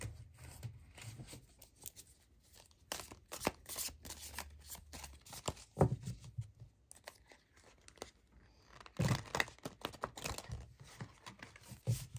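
Tarot cards are shuffled by hand in quick riffling bursts of crisp papery flutters and taps, close and fairly quiet, with brief pauses between bursts and no talk.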